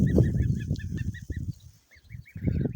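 Geese and chickens on a farm, with a run of high, short honks or cackles repeating over a continuous low jumble of clucking and farmyard noise, fairly close.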